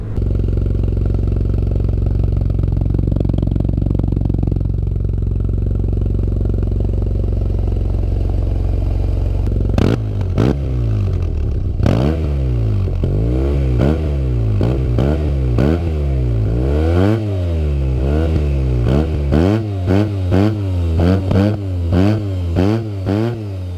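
A Yamaha T-Max 530 scooter idles with a low steady burble, then its exhaust is revved repeatedly in sharp rising and falling bursts, loud and close, with no voices.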